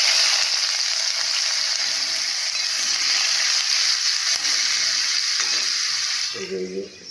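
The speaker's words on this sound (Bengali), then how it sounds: "এবার একটু পেঁয়াজ ফোড়ন দেবো।" Onion frying as a tempering in a hot pan gives a loud, steady sizzle and hiss that holds evenly for several seconds, then eases off near the end with a brief clatter.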